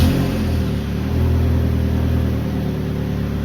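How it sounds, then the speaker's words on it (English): A 2012 Chevy Malibu engine running at high idle, a steady, loud, even hum with no pauses, heard close up. "I don't know why I have the high idle"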